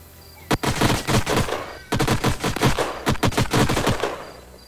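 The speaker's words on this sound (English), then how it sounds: "so let's shoot this with the big guns" Heavy weapons firing in the turn-based strategy game Age of Wonders: Planetfall, loud bursts of rapid repeated shots in two volleys, with no talking.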